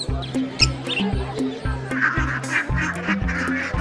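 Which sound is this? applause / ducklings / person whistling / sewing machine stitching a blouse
ducklings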